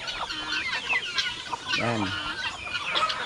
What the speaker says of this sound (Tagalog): Pero yung manok na yan, hindi natin yan katayin.